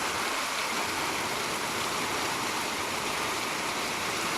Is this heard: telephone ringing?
no